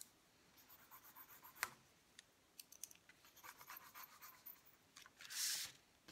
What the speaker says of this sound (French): Donc on prend nos ciseaux.